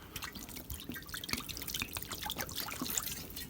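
Dirty, muddy duck water is poured out of a container on a homestead, making a steady splashing trickle with scattered drips for several seconds, fairly quiet and close.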